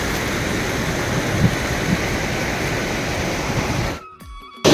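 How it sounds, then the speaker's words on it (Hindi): A waterfall pouring over a village dam roars as steady, dense broadband rushing water, close and continuous, before cutting off abruptly near the end. "पूरा झरना यहाँ"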